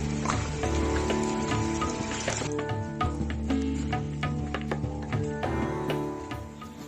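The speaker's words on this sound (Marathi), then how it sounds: "अतिशय खूप पाऊस चालू आहे" Heavy rain pours steadily at Bhimashankar in the Sahyadri hills, a dense continuous hiss with scattered drips and ticks, no voices over it.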